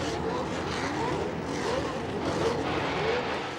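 1979 Formula 1 cars racing through the dips of the Dijon circuit, a dense continuous engine roar with rising and falling whines as the field passes, loud and steady throughout.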